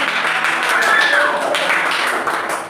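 Classroom students clap for a group in a steady, dense patter of applause that stays fairly loud throughout, with faint voices mixed in.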